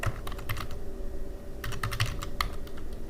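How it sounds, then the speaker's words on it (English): Rapid keystrokes on a computer keyboard as a browser search is typed, a steady run of light, close clicks with a few brief pauses and louder taps near the end. "go to a browser and type MySQL download"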